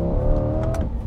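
A 2021 Chevrolet Corvette C8 Stingray's engine sounds loud and close, a deep steady growl that holds, then drops off near the end of the brief burst.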